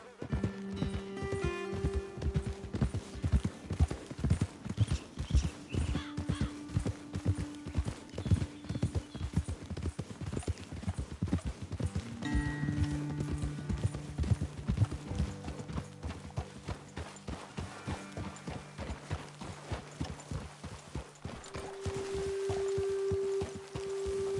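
Horses trot steadily in the Red Dead Redemption 2 video game, their clip-clop hoofbeats rhythmic and close alongside faint game music. A brief whinny rises from the horses.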